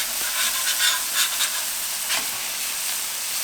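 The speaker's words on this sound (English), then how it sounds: "I'm gonna flip my burgers" Smash burgers sizzle on a Pit Boss five-burner griddle as they are flipped, a steady close hiss of frying with a few brief scraping bursts from the spatula and no talk.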